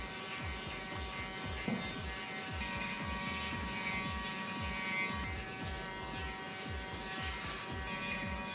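A Laifen P3 Pro or T1 Pro electric shaver buzzes steadily and close, its motor hum continuous over the whole stretch with rhythmic rasping pulses as it works across facial stubble.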